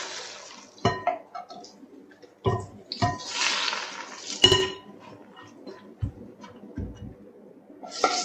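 Hot bacon grease poured over a lettuce and onion salad, heard as a few sharp clinks and scrapes of a pan and bowl with bursts of hissing sizzle in between.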